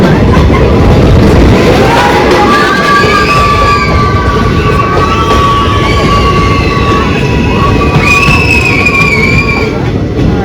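A train runs on rails, a loud steady rumble and rattle of wagons with drawn-out squealing tones of wheels or brakes rising above it, and faint voices mixed in.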